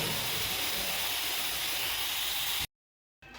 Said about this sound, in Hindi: इसमें से गैस निकाल लेते हैं